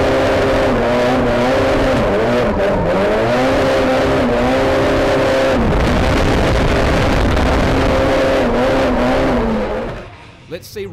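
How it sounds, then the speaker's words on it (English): Heard from onboard, a drift car at the Australian Drifting GP revs hard under full acceleration, its engine note rising and falling in loud sweeping tones as it heads into a drift, then quickly cutting back near the end. "full acceleration all the way to then initiate the drift nice and early"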